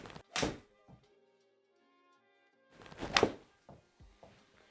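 Two crisp, sharp strikes about three seconds apart, each a quick thwack of a golf club compressing a golf ball outdoors, with quiet background between.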